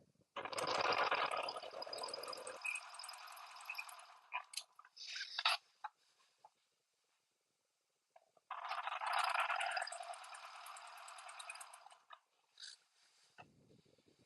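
A sewing machine doing free motion quilting, its fast close stitching whir coming in two long bursts with a quiet gap between them and a few short clicks and stops.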